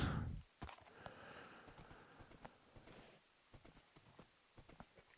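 Horse hooves clip-clopping in Minecraft, with the player riding a horse: a run of light, fairly quiet hoof clops in an uneven rhythm after a brief louder burst at the start.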